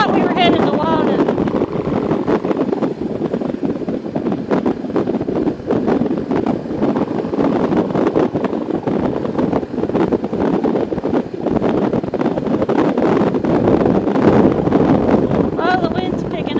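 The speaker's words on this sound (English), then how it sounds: "Oh, the wind's picking up." Strong, constant wind noise buffets the microphone while riding a motorcycle in high winds through Poudre Canyon, a loud, steady roar that carries on for the whole stretch.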